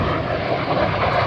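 A USAF Thunderbirds F-35 jet flying at the Sun n' Fun Airshow in Lakeland, making a loud, steady, broadband engine roar that holds constant without any talking.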